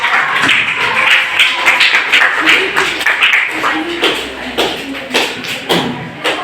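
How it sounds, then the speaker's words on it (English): A school audience gives a round of applause to welcome a group of students, loud scattered clapping with taps and thumps, while a voice carries on talking underneath. "Welcome them with a huge round of applause."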